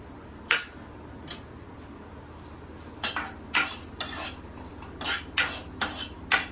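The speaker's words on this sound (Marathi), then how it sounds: "हा आता कांदा आपण फोडणीला घालूया" Chopped onion is stirred in a pan of hot oil with a metal spoon, giving sharp scraping clinks in irregular bursts, a few isolated at first, then clustered and repeated, over a quiet kitchen background.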